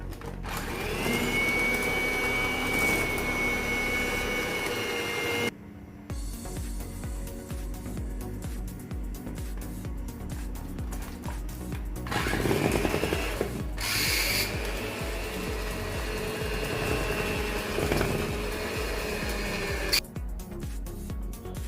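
Cake batter for an apple cinnamon cake being mixed with an electric mixer in a home kitchen, a steady close motor whine running throughout with a few brief pauses and shifts in pitch as dry ingredients are added.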